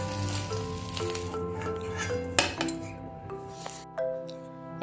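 Kabul rolls fry in hot oil in a pan, a steady sizzle running throughout with occasional clinks of utensils against the pan, fairly close and with no voices.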